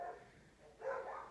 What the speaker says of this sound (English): my dogs are going off because a rooster just ran away